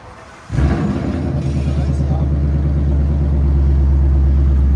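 A car engine starting and then idling and revving through an axle-dump exhaust, a loud, deep, throbbing rumble that builds and holds steady, close by.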